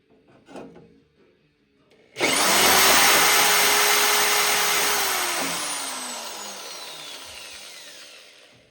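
A power drill boring pilot holes while fitting a gravel dog eater impeller kit: one loud close whine spins up sharply, holds steady, then slowly winds down, with no speech.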